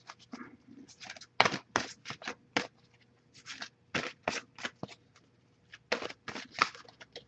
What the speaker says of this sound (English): shuffle a little bit more, see if we get anything to pop up.